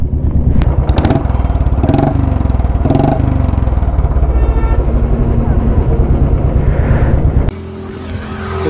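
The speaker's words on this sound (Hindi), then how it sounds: "एग्जॉस्ट का साउंड सुनाता हूँ एक बार" A motorcycle with a loud illegal aftermarket exhaust revs hard up close, its rough, throbbing roar rising and falling in repeated blips before dropping to a quieter idle at the end; a voice briefly speaks over it.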